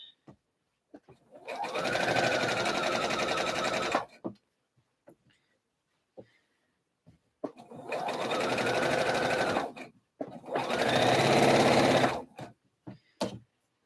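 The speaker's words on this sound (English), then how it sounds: "let's get this edge stitching done" Sewing machine edge stitching the split seam of a slip dress, running in three steady bursts of a few seconds each with short pauses between, close and loud with light handling noises in the gaps.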